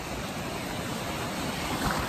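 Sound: ocean wave coming in at the beach

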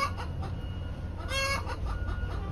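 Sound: hen clucking after laying an egg

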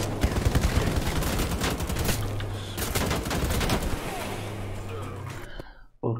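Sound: enemy gunfire in the video game Wolfenstein: The Old Blood

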